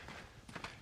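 Horse hooves clip-clop softly in the video game Red Dead Redemption, a few quick, faint hoofbeats under low in-game ambience.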